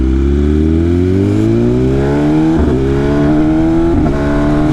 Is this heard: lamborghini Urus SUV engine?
yes